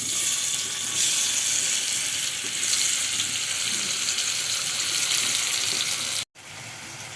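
Koorka (Chinese potatoes) coated in chili, coriander and turmeric powder fry in hot oil, giving a loud, steady hiss and sizzle that continues unbroken, cut off by a brief silence near the end.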